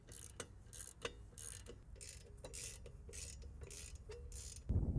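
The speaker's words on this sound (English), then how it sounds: "And now I'll use 14mm socket to tighten those" A ratchet turning a 14mm socket to tighten brake bolts on a Subaru Outback gives rapid, faint clicking bursts in repeated strokes with brief pauses between them, heard close up and alone, ending in a heavier handling thump.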